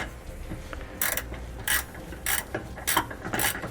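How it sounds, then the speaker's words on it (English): A 9/16 ratcheting wrench tightens two bracket bolts while installing SumoSprings Rebel custom helper springs on a 2016 vehicle, giving five short bursts of ratchet clicking in a steady rhythm, close and fairly loud, with no talking. "I'm going to use a 9/16 ratcheting wrench to tighten up the 2 bolts"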